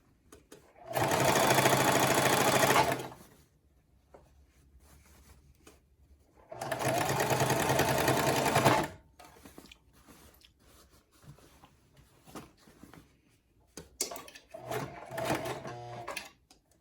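A Singer Classic sewing machine stitches a hem in pants of heavier fabric, running in two loud steady bursts of about two seconds each, then a softer shorter run near the end, with quiet handling between.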